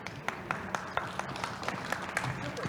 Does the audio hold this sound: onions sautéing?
no